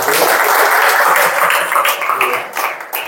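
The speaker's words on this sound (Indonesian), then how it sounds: "Tepuk tangan dong." An audience at a hypnosis demonstration claps steadily for about three seconds, a dense, loud patter of many hands that thins slightly toward the end.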